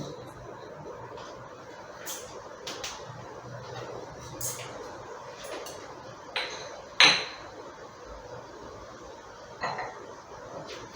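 Skinless urad dal being stirred in a pan for green chilli thokku, with scattered light scrapes and clinks of a spoon against metal over a soft background hiss, one sharper knock partway through.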